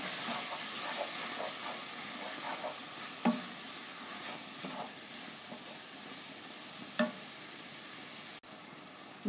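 Piperade with basil and chilli left to simmer over low heat, a faint, soft sizzle with intermittent scraping stirs and occasional light knocks of a utensil against the pan.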